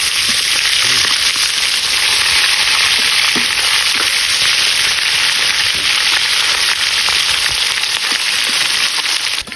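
Food crackles and sizzles continuously in hot oil, a loud, close, unbroken frying hiss with occasional sharper pops.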